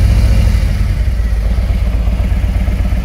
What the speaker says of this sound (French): On va le démarrer.